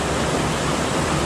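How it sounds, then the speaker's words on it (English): Pond water drains down into a creek at a campground, a steady broadband rushing and splashing like a small waterfall, constant and close, with no voices. "This is where the pond drains down into the creek."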